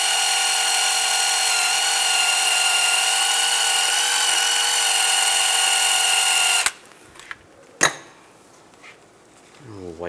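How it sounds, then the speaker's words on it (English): A power-driven wire brush cleans a front brake caliper on a 2007-2014 Chevrolet Silverado 2500 HD, giving a loud steady whine for several seconds that stops abruptly, followed by a few sharp clicks and quieter handling noises. "I'm just going to clean this up with a wire brush."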